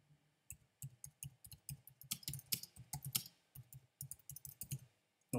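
Close, crisp clicks and taps from a computer mouse and keyboard come in an irregular series over several seconds in quiet surroundings while someone works in software.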